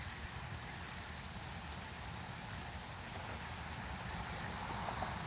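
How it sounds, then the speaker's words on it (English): Steady rain from a thunderstorm in Pittsburg, Kansas pours down, heard from a porch, a dense even hiss of drops on surfaces with no break, moderately quiet and continuous throughout. "Because it is flat out raining."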